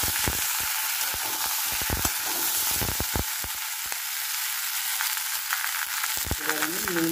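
Tomatoes fry in hot oil for a Bengali katla fish curry with potol and potato, a loud, close sizzle broken by repeated sharp clinks and scrapes of a spoon stirring the pan.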